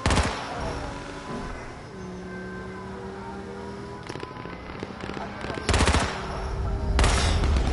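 Gunfire in the survival video game H1Z1: continuous near rapid shooting with louder bursts toward the end, under a steady engine-like drone and a voice talking.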